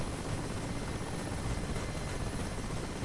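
Mi-8 Hip helicopter in DCS World, its rotor and turbine drone a steady, loud, dense wash with no voices over it.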